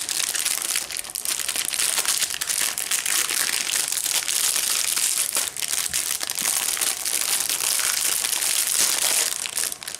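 Plastic packaging crinkles loudly and continuously up close while a quilt box is unboxed, with no talk.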